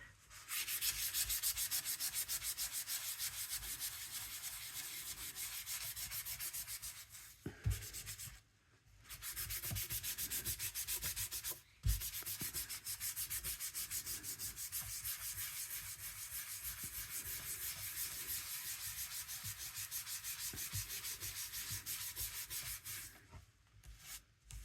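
Sizzix oil pastels are rubbed on paper in a long, steady scratchy rubbing close up, broken by two brief pauses.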